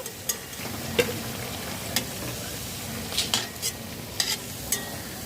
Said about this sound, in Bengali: এইভাবে সব ভেজে নেব।